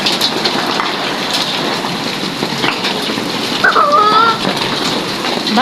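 Heavy rain with hail pours steadily onto surfaces nearby, a dense constant patter; a brief bird call and faint voices come through near the end.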